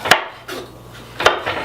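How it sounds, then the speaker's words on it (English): A knife chops red pepper, celery and scallions in a few sharp, close, irregular strikes, with quiet scraping between the cuts and no talk. "So we're going to cut these down a little bit further."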